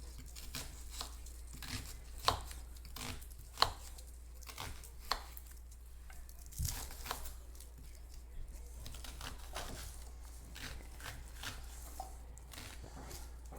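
Garlic being peeled in a home kitchen, a run of small crisp cracks, papery tearing and light taps close by, fairly quiet over a steady low hum, with occasional faint voices.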